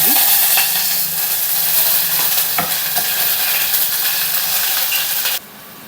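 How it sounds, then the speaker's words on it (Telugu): Finely chopped onions frying in hot oil in a pan for Telugu-style ridge gourd curry, a steady loud sizzle with occasional stirring scrapes that drops off abruptly near the end. "ఆయిల్ వేడెక్కిన తర్వాత మనం ఇక్కడ సన్న ముక్కలుగా కట్ చేసి పెట్టుకున్న ఆనియన్ ముక్కలు వేసుకున్నాను."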